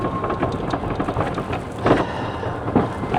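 Steady rain pours over the Tijeras Creek Golf Club course in Southern California, a dense, even hiss of drops striking the ground with a few heavier splashy swells, close and continuous with no voices.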